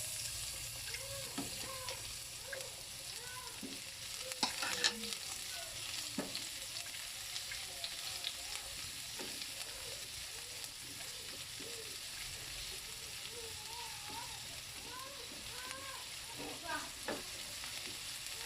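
Ground pork with garlic and onion browns in a pan for a Kapampangan giniling, sizzling steadily as it is stirred and scraped, with faint voices in the background.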